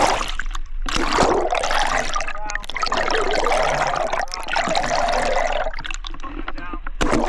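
A camera dive case is swished back and forth through water, making repeated surging swooshes and sloshing splashes at close range in uneven bursts.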